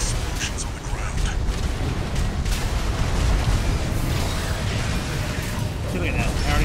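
Continuous rumbling booms and blasts from Armored Core VI mech combat, dense and loud, with some muffled talk mixed in throughout.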